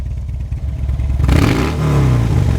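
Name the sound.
V-twin motorcycle engine revving in neutral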